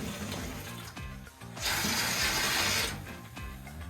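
Water rushes through a garden hose run from a main house through a connector to a second hose at a tiny house build. Soft mechanical clicks come first, then a loud, steady gush for just over a second that eases off.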